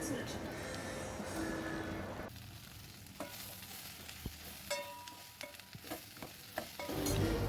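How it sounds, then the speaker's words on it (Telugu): Lady's finger (okra) pieces frying in oil with ginger garlic paste in a pan: a soft sizzle with scraping stirs and several sharp utensil clinks, quieter in the middle. "ఇలా ఆయిల్లో మళ్ళీ ఒక 1 మినిట్ వేయించిన తర్వాత మనం కట్ చేసుకున్న బెండకాయ ముక్కలు వేసుకోవాలి"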